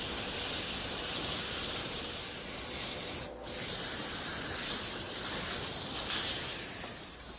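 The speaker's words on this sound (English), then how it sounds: "Now we'll sand it, and that can be fun." A wooden bat spins on a lathe while being sanded with 80, 100 and then 150 grit paper, making a loud, continuous rough whooshing rasp that dips briefly about midway and carries on steadily to the end.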